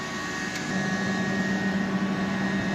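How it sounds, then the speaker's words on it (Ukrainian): An air compressor for a laser cutter runs with a steady, loud electric hum, and its radiator cooling fan switches on early in the clip, after which the whirring drone continues at a slightly higher level. "увімкнувся вентилятор на охолодження радіатора"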